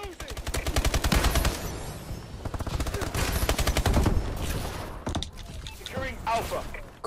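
Rapid automatic gunfire from a Call of Duty: Advanced Warfare multiplayer match, loud bursts of close shots in quick rhythmic strings with brief pauses, under occasional game noise and talk.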